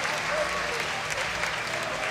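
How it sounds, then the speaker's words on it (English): Little League World Series fans applauding the starting pitcher as he leaves mid-inning, a steady wash of clapping from both stands of the crowd at a youth baseball game, sustained and even, with voices mixed in. "Both sections of fans have stood up to applaud the effort from Zach Reynolds"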